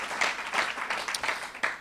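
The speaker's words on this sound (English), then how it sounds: "a round of applause for Book People." Bookstore audience at an author talk gives a brief burst of applause, uneven individual claps rising and falling over a couple of seconds, moderately close.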